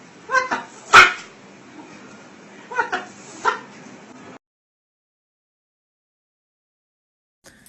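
Dog barking indoors, a few sharp barks and yips in the first seconds, one loud close bark standing out, then silence.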